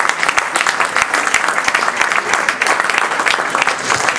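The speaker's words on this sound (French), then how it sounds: "On peut l'applaudir Pascal Thibault quand même, avec Bastien." An audience at a post-match gathering of the URB Berck sports club gives the coach lively, sustained applause, with dense sharp claps going on throughout.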